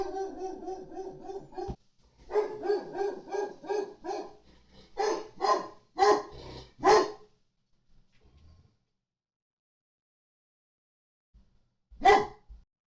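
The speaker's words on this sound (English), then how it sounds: "that is my dog who is barking at the moment in the background." A dog barks in repeated bursts, a steady run of barks followed by a few louder, spaced ones, a pause, then one final bark.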